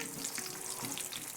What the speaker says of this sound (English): These are frying up really nice.